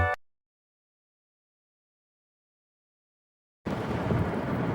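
Heavy rain with thunder breaks in after a stretch of near silence, a dense, loud, rumbling roar of downpour that fills the last second.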